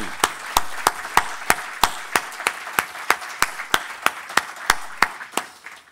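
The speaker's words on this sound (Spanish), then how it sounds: "Y un fuerte aplauso para" Applause at a business breakfast gathering: sharp, regular claps in a steady rhythm ring out clearly in a room, holding an even pace from start to finish with little else beneath.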